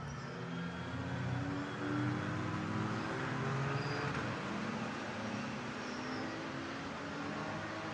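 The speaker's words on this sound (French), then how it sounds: "Les voitures qui vont aborder le dernier virage avant la ligne droite" Lightweight race cars, including a Porsche 981, approach the final corner before the straight at Barcelona under safety car, a dense, steady engine drone and rumble heard from a moderate distance with no clear single pass.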